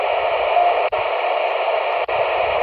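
Steady hiss and buzzing noise, pager intermodulation interference, pours from a QYT KT-8900D mobile radio, loud and continuous with two brief dropouts, no voices.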